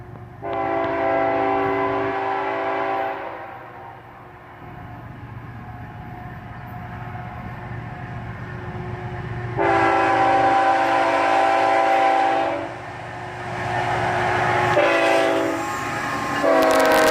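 Two ET-44AH locomotives lead a northbound freight train through a grade crossing, sounding loud sustained horn blasts in a long-short pattern over the steady rumble of the passing train.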